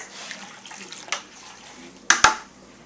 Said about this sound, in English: So I poured it in my bucket that's half full of water.